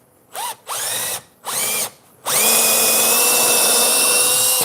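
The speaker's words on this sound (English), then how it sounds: "I'm kind of watching the drill against the boards" A power drill bores a pilot hole into boards, starting with three short bursts of whirring before a long continuous run, loud and close with no talking.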